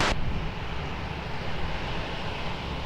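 An airliner taking off on runway 20 at Lisbon Airport: a steady, moderately loud engine roar with low rumble that holds evenly after a brief initial hiss, alone without voices.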